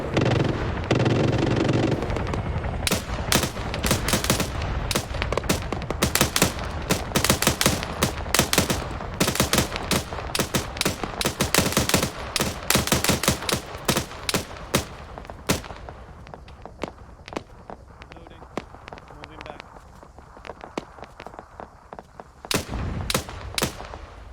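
A team opening fire eastward on targets about 600 meters away pours out sustained volleys of rapid rifle and machine-gun shots, loud and close, with brief pauses and clustered bursts throughout.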